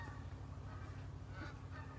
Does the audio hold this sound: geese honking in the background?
yes